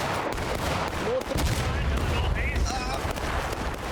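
Pistol shots from cavalry at a Civil War reenactment battle, a rapid scatter of sharp cracks and booming reports over a continuous crowd roar, with voices talking and shouting throughout.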